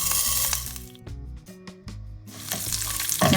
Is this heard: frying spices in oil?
yes